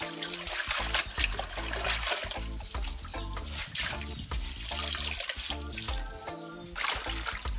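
Water runs and trickles steadily during dish rinsing at a home in rural Westmoreland, Jamaica, a continuous splashing flow that stays fairly loud throughout, blended with a dense, tonal background.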